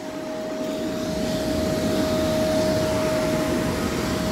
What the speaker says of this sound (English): One blower.